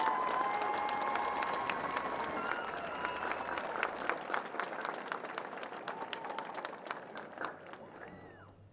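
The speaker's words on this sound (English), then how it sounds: "Please give them a round of applause" A crowd at a school district graduation ceremony applauds the graduates, dense sustained clapping that thins out and fades toward the end.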